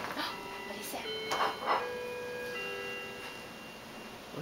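Faint clock dings in a home at Christmas, a few light tonal chimes ringing out with lingering tones over a soft steady background hiss.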